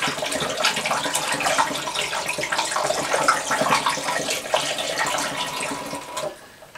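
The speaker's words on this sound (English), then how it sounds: "Back with the funnel, and then in goes the apple juice." Apple juice pours from a carton through a funnel for homemade cranberry cider, a continuous close gushing splash that holds steady before trailing off at the end.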